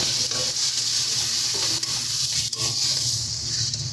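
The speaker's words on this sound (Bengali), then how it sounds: "দিয়ে দিচ্ছি টমেটো বাটা।" Tomato paste goes into a sizzling, well-fried spice masala for a tilapia fish curry and is stirred in, a steady frying hiss with soft scraping stirs throughout.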